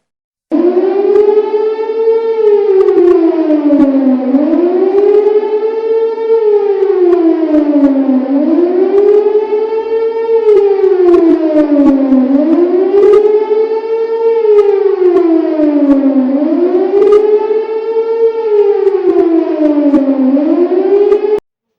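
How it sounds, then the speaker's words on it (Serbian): An air raid civil defense siren wails over Belgrade, rising and falling in slow, regular cycles, loud and continuous throughout with no voices. "i za Beograd je pre nekoliko minuta dat znak za vazdušnu opasnost"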